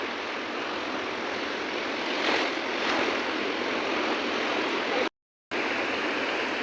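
Strong waves wash against a river or sea shore during a Kartik Purnima boat-floating festival, a steady loud surging roar with brief swells, alone without voices, cut by a short dropout near the end.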